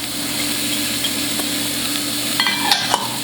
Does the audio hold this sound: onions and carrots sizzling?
yes